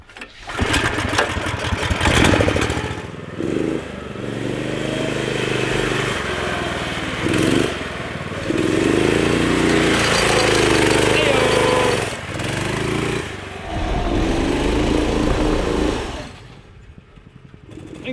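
A Murray off-road go-kart with a 420cc Predator engine starts and runs loud and close, revving with an uneven, sputtering drone that dips and surges several times before cutting out near the end.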